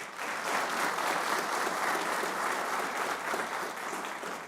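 Studio audience applause on a cricket talk show rolls on as a thick, even roar of clapping, loud and sustained for several seconds with no speech over it.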